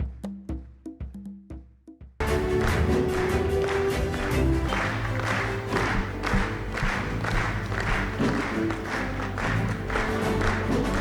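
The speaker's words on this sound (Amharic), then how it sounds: "በታላቅ ደመቅ ባለ ጭብጨባ ሸኙልን" A large church crowd applauds as an evangelist walks onto the stage: steady, loud clapping and cheering surge in after a brief musical lead-in and continue without a break.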